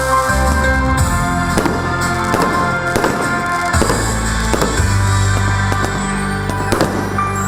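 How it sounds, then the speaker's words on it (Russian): Fireworks display closing a children's festival, with repeated loud bursts and crackling pops in an irregular rhythm over a steady background din, continuous through the clip. "Провожали счастливые дети этот прекрасный и светлый праздник под яркий и красочный фейерверк."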